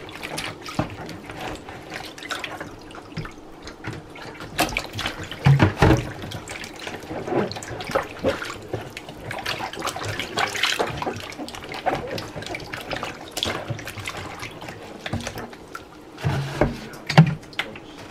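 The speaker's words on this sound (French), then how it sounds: "on va mettre le vinaigre" Vinegar and water poured and splashed while washing catfish, intermittent trickles and splashes with a few louder sloshes, close and moderately quiet.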